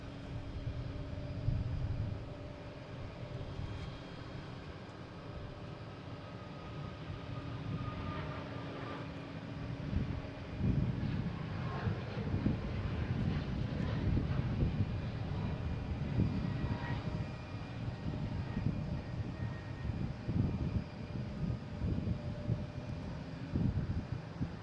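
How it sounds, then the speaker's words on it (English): A United Airlines jet taking off at Boston Logan International Airport, bound for Newark, with a steady distant engine roar that swells and holds throughout, no talk over it. "And we have United Airlines taking off,"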